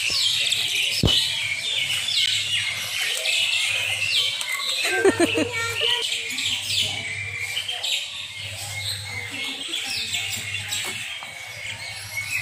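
Many birds call at a bird park in Palembang, a busy mix of chirps, tweets and occasional squawks at mid distance, with a low steady hum beneath and people talking now and then.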